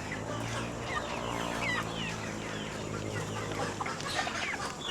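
Hungry pet chickens cluck and chatter in a steady, busy chorus, several birds calling at once close by, with faint background noise and no talk.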